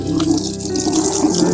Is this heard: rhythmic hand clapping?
no